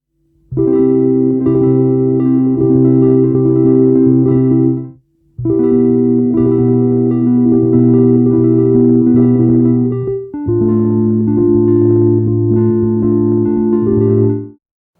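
A droning, thrumming instrumental texture plays in three long sustained swells with brief gaps between them, rich in layered low tones and buzzing overtones.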